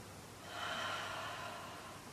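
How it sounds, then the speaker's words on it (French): A single deep breath drawn in slowly through the nose or mouth, close and soft, swelling into a long airy inhale that fades out, with no talking. "je vais prendre une grande inspiration"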